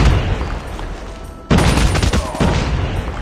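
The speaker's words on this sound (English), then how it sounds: "Grenade out!" A grenade blast and a burst of gunfire in a video game shootout: a loud rumbling explosion hits suddenly midway, followed by rapid shots, close and heavy, with little speech.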